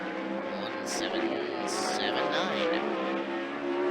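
A 360 sprint car roars past during qualifying laps at a speedway, its loud engine note rising and sweeping by under a commentator's steady voice.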